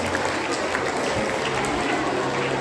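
A school audience at a National Sports Day quiz breaks into steady, sustained applause for a team's correct answer, a dense patter of many hands filling the room at even loudness.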